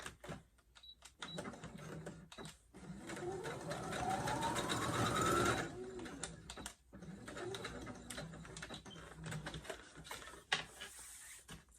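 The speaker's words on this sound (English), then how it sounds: "as you're sewing through this thick elastic, you probably want to have your tension up high" Sewing machine straight stitching through thick elastic with the tension set high, a fast mechanical whir that builds and rises in pitch, then stops and restarts in shorter runs, close and fairly quiet.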